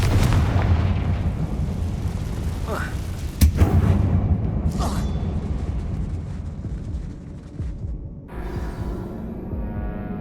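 Fiery blasts from the Confringo spell in Hogwarts Legacy, set inside a closed, tomb-like mine, booming repeatedly over rumbling game noise with a sharp burst around the middle, loud and close.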